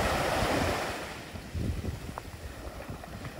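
Sea waves wash and break on a shore in the Outer Hebrides with a roaring rush, followed by churning surf and gusty wind noise against the microphone.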